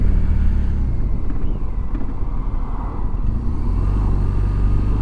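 A 2007 BMW 1200GS motorcycle engine rumbles low and steady at slow riding speed, with wind buffeting over the continuous drone and no talk.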